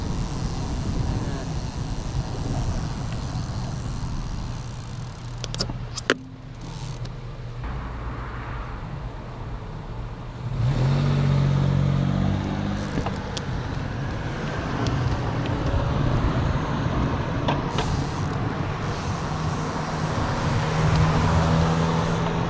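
City traffic rolls past on a roadway, cars and a heavier vehicle swelling and fading as they pass close by, with a sharp clack midway and a louder rumble building in the second half.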